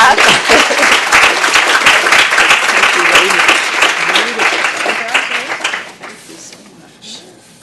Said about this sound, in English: Yes, you all clap.